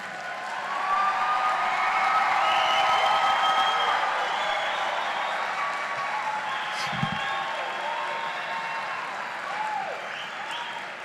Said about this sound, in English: Please join me now in applauding our 2025 Associate in Arts, Associate in Science, Associate in General Studies, and Associate in Applied Science degrees and certificate candidates.